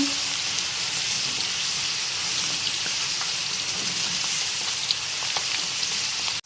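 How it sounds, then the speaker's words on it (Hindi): Chana dal fries in hot oil with a steady, even sizzle throughout, occasionally stirred with a spoon, close and alone until it cuts off abruptly at the end. "आप देख सकते हैं कि दाल हमारी कैसे फ्राई हो रही है।"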